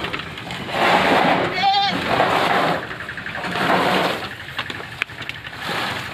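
Goats bleating while being fed: a short, wavering bleat stands out near the start, surrounded by steady rustling and splashing noise from feeding.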